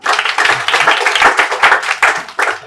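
A small group claps for a boy, a quick run of close, loud hand claps lasting a few seconds with uneven rhythm and no voices over it.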